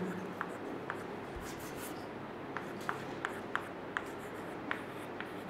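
Pen scratching on paper while writing lecture notes, quiet close strokes with small taps and scrapes, a soft steady rustle under faint room noise.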